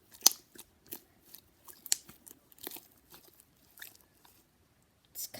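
Crunchy glitter slime with sequins gets squeezed and worked by hand, giving faint, sparse crackles and small pops scattered through quiet stretches.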